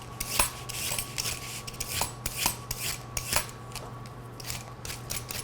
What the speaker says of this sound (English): We're gonna cut these in what's called an oblong shape.